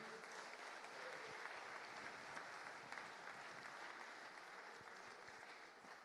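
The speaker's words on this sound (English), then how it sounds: "So can we have a big round of applause for Sarpreet Singh?" Applause from an audience at a Sikh community football tournament evening draw, honoring a footballer; a continuous, even patter of many hands, faint and somewhat distant, holding steady for several seconds.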